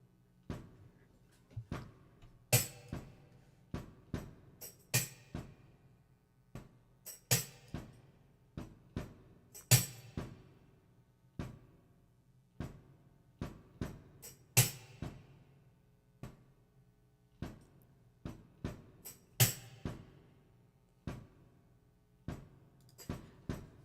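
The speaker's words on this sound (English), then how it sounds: "You can't see it, but I have a kick drum under my desk." A kick drum sits under a desk and is tapped by foot against a nearby plate, giving soft, low, irregular thumps with occasional sharper rattling hits, close by and quiet, with no voices.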